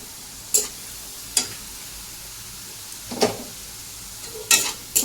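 Spices with coriander powder and red chilli powder are stirred into onions frying in a pan for mutton curry, a low background sizzle broken by several sharp scrapes and clatters of the spoon against the pan.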